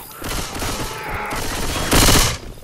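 Automatic gunfire in Left 4 Dead 2 on the Dark Carnival map, a dense close rattle of rapid shots running throughout, with a louder burst of fire near the end and faint voice in the background.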